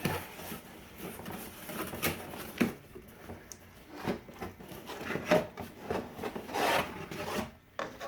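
Cardboard rubs, scrapes and rustles as the box of a DeWalt DW734 thickness planer is opened and handled, irregular close scuffing and thumps at moderate loudness.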